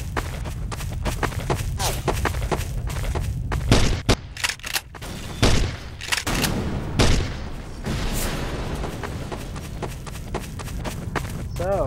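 Gunfire in Garry's Mod, with rapid clustered shots and sharp cracks breaking through a steady rumble of game noise and footsteps, loud and close, with a few heavier bursts in the middle.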